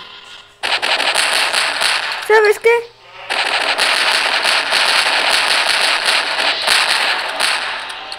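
Rapid automatic gunfire in the video game Garry's Mod, loud and continuous bursts running through most of the clip with a brief pause where a voice speaks.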